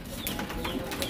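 Pigeons coo softly in a village setting, low repeated throaty calls under a loud, noisy background.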